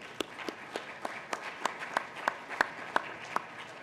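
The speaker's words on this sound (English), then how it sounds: "Please join me in giving all five teams another round of applause." Steady, evenly spaced handclaps from an audience at a business plan competition repeat about a dozen times at a brisk, regular rhythm, fairly close and crisp.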